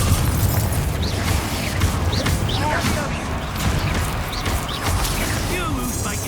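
In Hogwarts Legacy, Confringo blasting spells burst amid a busy battle, with repeated rumbling booms and crackling impacts layered under shouting voices and chirpy spell effects throughout.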